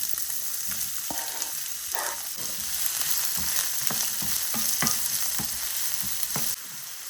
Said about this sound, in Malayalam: സവാള ഒരു ബ്രൗൺ നിറമാവേണ്ടുന്നവരെ വഴറ്റി കൊടുക്കണം.